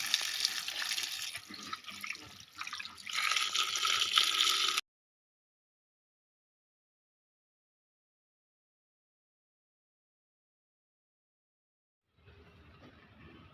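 Water gushes steadily from a household tap, filling for mopping floors in a house, loud and close for about five seconds, then silence before a fainter flow returns near the end.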